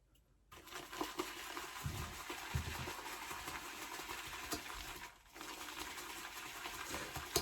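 A shaving brush whips soap into lather in a bowl with a little added water, making a steady, fast swishing and slapping churn that runs almost without a break, with a brief pause partway through.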